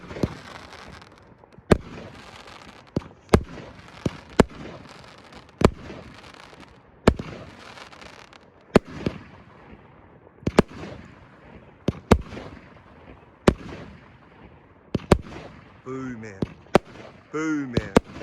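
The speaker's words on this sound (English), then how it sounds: "Let It Ride by Prime Pyrotechnics." Let It Ride, a Prime Pyrotechnics firework set off outdoors in the UK, fires a long run of sharp, loud bangs at irregular intervals with crackling between, ending in denser crackle and whistling bursts.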